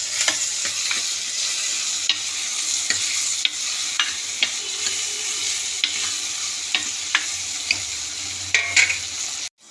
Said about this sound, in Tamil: கொஞ்சம் வதக்கட்டும்.